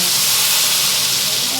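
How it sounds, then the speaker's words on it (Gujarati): Hot tempering of mustard seeds, cumin, curry leaves and red chilli hits the kadhi in a loud, steady sizzling hiss close by, over a brief moment. "કઢીમાં વઘાર નાખી દેવાનું"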